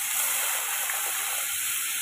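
Water poured into a hot pan of cashew paste for a vegetarian potol curry, giving a loud, steady, bright sizzling hiss that holds even and unbroken throughout.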